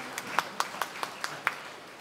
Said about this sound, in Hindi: इस समय में जोरदार ताली बजाकर हम स्वागत करें